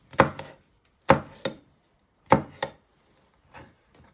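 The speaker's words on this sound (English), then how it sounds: "So what we're doing is we're just finely slicing the chillies." A knife finely slicing chillies on a chopping board, heard as three quick paired chopping strokes followed by two fainter taps, close and clear with no talk.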